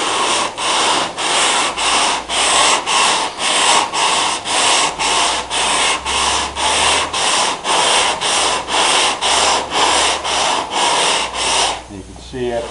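A sanding block scrubs back and forth over a fill coat on a car's metal roof in a steady, rhythmic rasp of about twenty close, even strokes, with talking faintly beneath before it stops.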